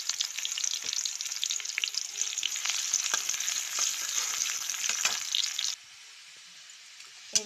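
Onions fry in hot oil with a dense, steady sizzle and scattered crackles for about six seconds, then the sizzle drops away to a faint hiss, followed by one brief clink at the end. No one speaks.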